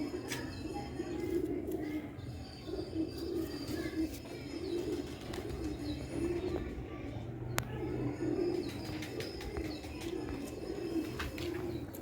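Quail chicks chirp in a steady, faint stream of small repeated calls over a constant low hum, with occasional quiet background noises.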